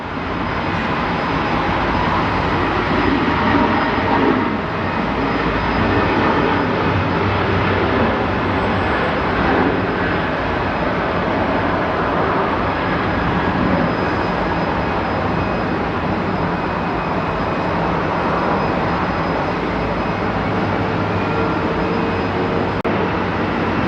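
Passenger jet airliner flying over DFW airport, a loud continuous broadband engine roar that holds steady and close for the whole stretch.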